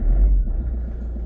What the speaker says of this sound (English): We have a running vehicle.